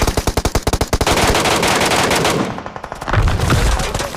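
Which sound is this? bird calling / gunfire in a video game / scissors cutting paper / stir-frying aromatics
gunfire in a video game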